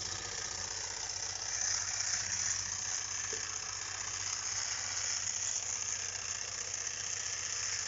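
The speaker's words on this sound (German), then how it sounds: "Jetzt wollen wir das Gas ein bisschen aufdrehen." A Wilesco D365 toy steam roller running as its gas is turned up, a steady close mechanical chuffing and rattling hum that holds evenly throughout, with no talking.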